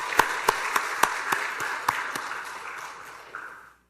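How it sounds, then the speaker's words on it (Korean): A church congregation claps in scattered, distinct hand claps that gradually blend into a thinner patter and fade out toward the end, with no voices over it. "다시 한번 박수 한번 합시다"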